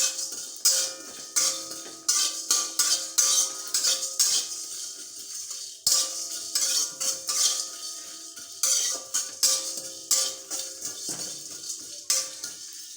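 A spatula stirs coriander seeds, black pepper, dried red chilies and cumin dry-roasting in a metal pan, making quick, repeated scraping and rattling clinks in an uneven rhythm, close and fairly quiet.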